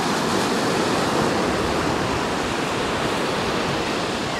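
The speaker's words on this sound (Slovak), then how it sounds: "akurát fúka vietor, nádherné vlny" Sea surf at a beach in Lignano, Italy, on a windy day: a steady, loud, broadband roar of breaking waves mixed with wind, continuous and without pauses, with no voices.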